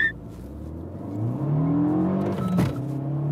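Heard from the cabin, a Renault Mégane R.S. turbo hatchback launches hard, its engine revving upward in a rising sweep, with a quick shift break and then pulling on, loud and close.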